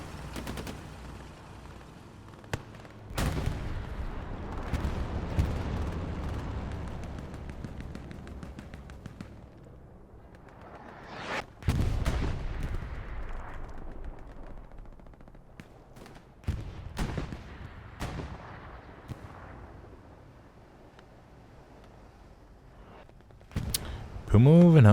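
Rockets fire in the World War II shooter Hell Let Loose as sharp, loud blasts that ring out and fade, spaced across the scene amid scattered distant gunfire.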